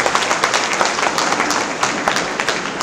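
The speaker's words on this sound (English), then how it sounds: "We give him a big round of applause." An audience applauds at the inauguration of an academic block at SCC Ziro, steady dense clapping filling the space without any speech over it.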